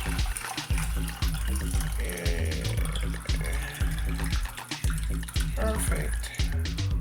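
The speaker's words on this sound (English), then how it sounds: "So guys, I'm gonna start pouring my stock." Stock poured into sausage and turkey cornbread dressing, a steady liquid pour with splashing that carries on for several seconds over a busy kitchen background.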